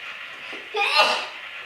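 A single sharp sneeze bursts out at an outdoor family camping and grilling spot on a chilly day, brief and close, with a steady background hiss around it.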